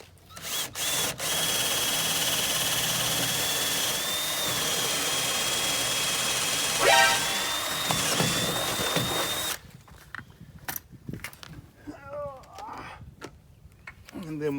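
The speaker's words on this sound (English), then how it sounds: "Drilling a pilot hole to the bottom" A power drill runs at a steady high whine for several seconds drilling a pilot hole in wood, briefly straining mid-way, then stops and a person begins talking.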